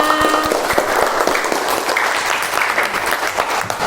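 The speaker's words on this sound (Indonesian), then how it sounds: "Beri tepuk tangan untuk Mbak Ari Husna." A class or small audience claps for a presenter, steady dense applause with a few sharper individual claps standing out, continuing evenly for several seconds.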